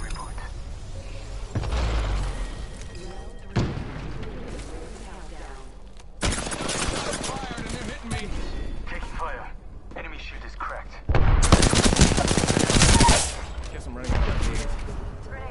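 Video game gunfire as a player comes under attack, with loud bursts of rapid shots in several separate stretches, the heaviest near the end. Game voice callouts and effects run between the bursts.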